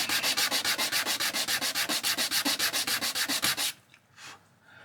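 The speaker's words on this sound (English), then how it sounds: "I'm going to get my file. I'm just going to take down the edges of those blocks mostly." A hand file scraping along the edges of small wooden pallet blocks in rapid, even back-and-forth strokes, close and loud, about two dozen rasps before stopping, followed by a faint rustle.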